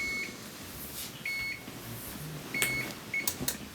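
A GE electric oven control panel beeps as its buttons are pressed to set 350 and start: several short, clear electronic tones spaced apart, with clicks and handling noise around them, close and fairly loud.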